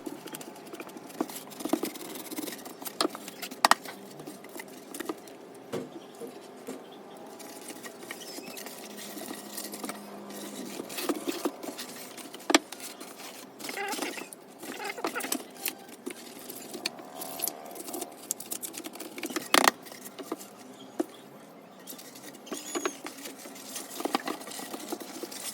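A chisel cuts a hole for a DIY aquarium light, giving faint, irregular tapping and scraping with scattered small clicks over a soft background, with no speech.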